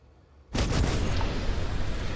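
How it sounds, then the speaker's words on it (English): The starship USS Discovery fires all its cannons and gravity torpedoes in a video game: a sudden loud blast breaks out of near silence and rolls into a dense, sustained roaring barrage. "There she is firing off all cannons, gravity torpedoes,"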